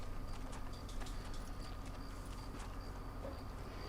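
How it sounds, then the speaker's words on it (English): Horse hooves clip-clopping in the Western video game Red Dead Redemption, a quiet steady trot with faint ambient birdsong behind it. "Don't mind me, just on my horse."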